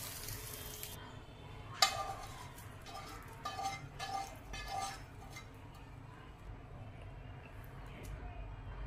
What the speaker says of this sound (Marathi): आता जो हा तडका आहे, फोडणी जी आहे ती आपण चटणीवर घालणार आहोत